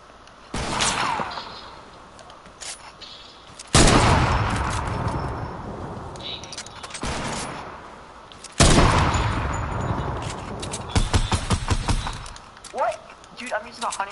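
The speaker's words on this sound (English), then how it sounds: "I'm using a hunting rifle only" Hunting rifle shots in a video game ring out as a few sharp, loud reports spaced seconds apart, each with a ringing tail, while players talk over the action.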